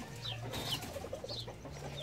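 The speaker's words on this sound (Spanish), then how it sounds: "son gallos fenomenales" Fenomenal fighting roosters, including an old breeding cock, cluck and call in short, bird-like bursts at close range, several brief chirpy notes over a steady low background hum.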